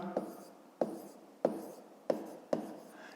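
Pen or chalk writing out a math calculation in a Ukrainian 5th-grade exercise: five sharp, evenly spaced taps and strokes, close and fairly quiet, with no speech.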